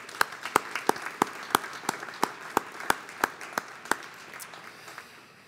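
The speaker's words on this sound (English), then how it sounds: "So a round of applause for Darrell Meyer" A crowd applauds an instructor at a community college arts and sciences commencement ceremony: crisp claps repeat at a steady, even pace and sound fairly distant and soft against the room's background, and gradually thin out.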